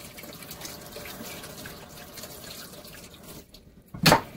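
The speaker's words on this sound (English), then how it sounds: "I have to wash my hands." Tap water runs steadily into a kitchen sink during hand washing, a faint continuous splashing hiss that drops off briefly near the end before a short louder burst of water.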